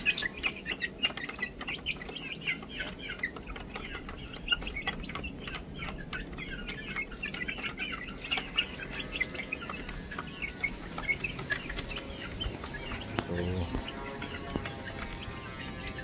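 Young roundhead-sweater cross gamefowl chicks, about a month old, cluck and peep continuously on a gamefarm, a busy overlapping flock chatter with some birds near and others farther off.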